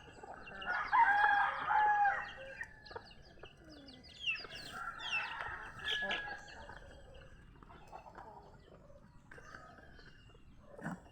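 Texas breed rooster and chickens in a backyard flock, a rooster's crow rising early on followed by scattered clucks and squawks at moderate distance, with someone talking quietly in between.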